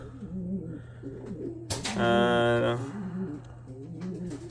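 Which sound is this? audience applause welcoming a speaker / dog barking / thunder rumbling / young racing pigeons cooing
young racing pigeons cooing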